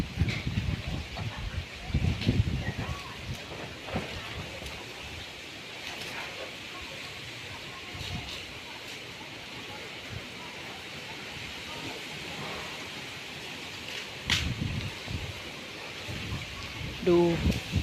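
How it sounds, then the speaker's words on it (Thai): Distant thunder rumbles in low, scattered rolls over a steady hiss of rain and wind in rural Thailand, with the storm far off toward Surin and a few louder bursts near the start and end. "เสียงฟ้าร้องอยู่ไกลนะคะนู่นอยู่ทางสุรินทร์นู่นเลย"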